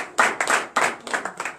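A church congregation at a night deliverance and prophecy service claps in unison, loud and close, several strong rhythmic claps over a little more than a second, with no talking.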